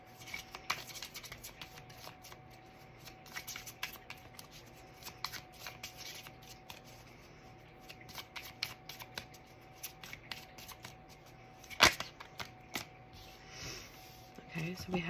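A deck of Enchanted Forest Oracle cards is shuffled close by in a quiet room, giving repeated crisp riffles and flutters with a few sharper snaps.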